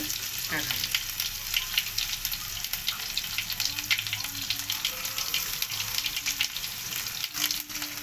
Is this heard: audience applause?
no